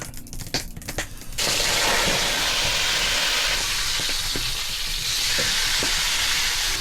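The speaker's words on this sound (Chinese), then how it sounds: "等一会就把它烧了，油锅里倒。" A red big-eyed fish goes into hot oil in an iron wok in a rural kitchen, bursting into a loud sustained sizzle and hiss after a few quieter clicks and clatters.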